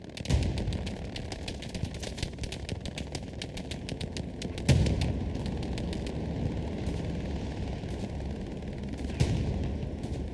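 Continuous battlefield din from a Hell Let Loose match, with dense crackling small-arms fire throughout and occasional heavier booms from a Panzer IV engaging a Soviet tank, loud and sustained.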